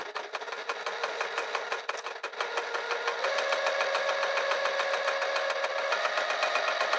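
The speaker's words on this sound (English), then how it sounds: "I'm going to just start sewing this open edge closed." Sewing machine set to a long stitch running steadily along the open edge of a cork wrist pouch, a continuous mechanical whir with a rapid needle rhythm that settles into a steadier, slightly louder drone partway through.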